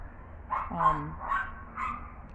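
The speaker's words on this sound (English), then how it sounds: "my neighbors has a bunch of dogs" A bunch of neighbors' dogs bark in the distance, giving three or four muffled yips and woofs spaced across a couple of seconds, faint under a quiet indoor background.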